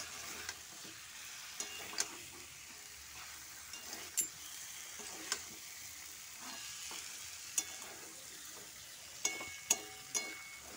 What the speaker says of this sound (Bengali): আলুর সাথে চিকেনগুলো ভালো করে একটু কষিয়ে নেব ভালো করে